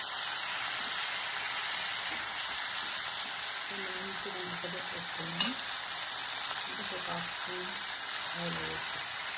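Tomatoes with tamarind sizzling in a pan for a green chilli, peanut and tomato chutney, a constant bright frying hiss up close, with faint low voice fragments in the middle.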